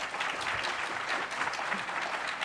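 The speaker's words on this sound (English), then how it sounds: "We like applause and attention" A dense, steady round of applause from an audience at a TwitchCon panel, many hands clapping together at a constant level with no pauses and no talking over it.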